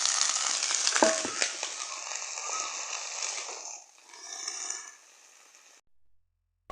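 Onions tipped into hot oil frying with a steady broadband sizzle, loud at first after a sharp clatter near the start, then thinning into quieter crackling that fades out.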